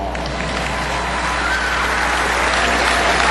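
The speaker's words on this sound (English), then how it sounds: "Ladies and gentlemen, a round of applause, please, for the Jet, Mr. Jeffrey" A basketball arena crowd applauds a former Coca-Cola Tigers player at a 2010 Alaska versus Coca-Cola game, a steady roar of clapping and crowd noise that swells slightly over a few seconds.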